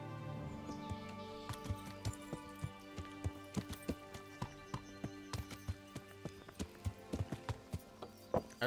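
A horse's hooves clip-clop steadily in the medieval game Kingdom Come: Deliverance, sharp and close, quickening toward the end, with faint birdsong behind and no speech.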